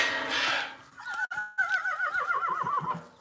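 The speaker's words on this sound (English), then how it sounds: "If you just heard that little neigh," A horse gives a short, wavering whinny, its pitch rolling up and down for a couple of seconds, close by, after a burst of rustling noise.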